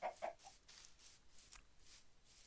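Chickens cluck softly in a Minecraft game world, with a few quick clucks at the start and then faint scuffling and shuffling sounds continuing quietly.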